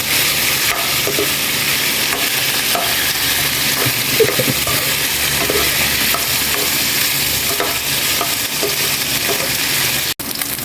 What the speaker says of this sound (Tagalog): I-prito natin sa mantika or sariling mantika niya para mag-brown